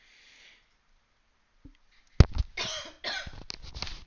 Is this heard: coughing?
yes